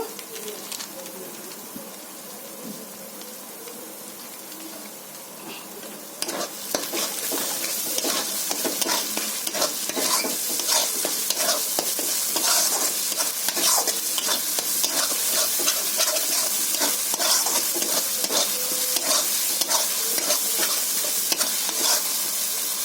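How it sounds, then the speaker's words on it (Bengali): Masala spiced with Kashmiri chili powder is stir-fried for a country chicken curry, starting as a soft hiss and then becoming a louder, continuous sizzle with scraping stirs, while birds coo faintly in the background. "মশলাটা আমার কষানো হয়ে গেছে"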